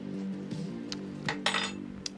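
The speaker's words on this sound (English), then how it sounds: "I'm gonna stir my coffee, then I'm gonna look at chat." A spoon stirring coffee in a mug, with a few soft clinks of metal against ceramic scattered over a quiet room hum, close and fairly faint, with no talking.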